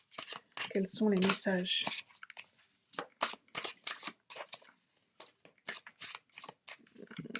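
Tarot cards from a Gustave Doré deck being shuffled and mixed by hand, a run of quick papery riffles and flicks that plays out under a woman's speech.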